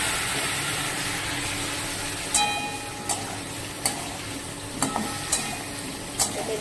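Fish curry with boiled papaya fries in a pan under a steady background sizzle, while a spoon scrapes and clacks against the pan in sharp, regular strokes about once a second.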